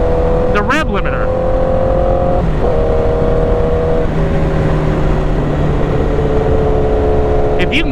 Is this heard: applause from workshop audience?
no